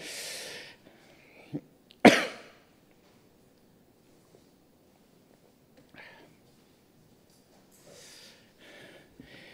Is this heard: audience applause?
no